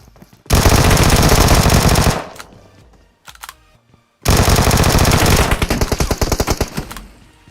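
A Vector submachine gun fires in PUBG Mobile, with two loud, sustained automatic bursts separated by a pause and softer clicks and shots between them.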